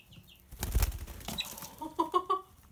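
A young chick flapping its wings in a quick burst of soft fluttering, close by, followed by a few short high peeps.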